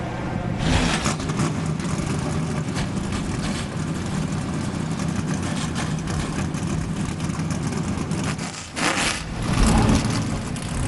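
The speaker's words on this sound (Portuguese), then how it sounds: "Aí está, portanto, o ronco dos motores" NASCAR Truck Series race trucks at Pocono fire up their engines together, a loud sustained roar with a brief dip and a surge near the end, no talk over it.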